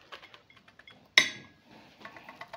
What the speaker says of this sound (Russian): Плов перемещается в тарелку.